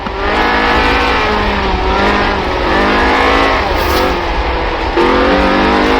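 A Ford RS 1800 rally car in Forza Horizon 4 roars loud and close, its engine revving steadily with gear-change dips and a brief tire squeal, with no voices over it.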